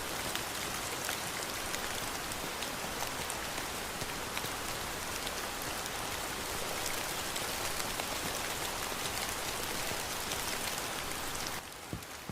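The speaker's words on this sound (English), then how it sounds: "it's raining outside." Steady rain falls outside, a dense and even hiss of drops that continues for the whole stretch with no voices.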